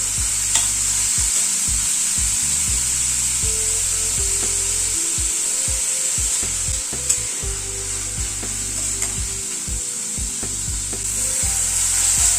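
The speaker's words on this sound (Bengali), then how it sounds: "ডালটা দিয়ে 2-3 মিনিট মতো একটু মশলার সাথে কষিয়ে নিলাম ডালটাকে।" Red lentils stir-fried with spices in a pan give a steady sizzle, with a spatula scraping and knocking against the pan in an uneven rhythm. Close and continuous, with no talking.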